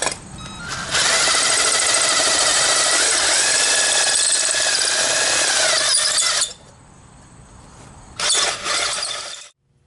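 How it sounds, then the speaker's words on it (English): A step drill bit enlarges a hole in a steel saw blade, a loud, whining grind that holds steady for several seconds, stops, then returns in two short bursts before ending, close and alone. "we're going to make this hole larger using our step bit"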